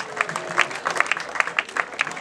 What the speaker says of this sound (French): Applaudissons très fort, s'il vous plaît